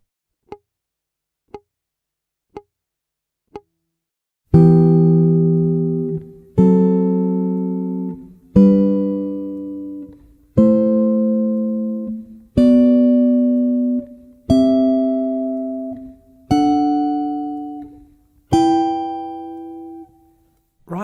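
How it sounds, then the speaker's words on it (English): Four short clicks, then a steady series of eight ringing guitar chords, spread triads of the E Aeolian mode, each struck once and left to sustain before the next, clear and close. "the chords of the E Aeolian mode, played this time as spread triads"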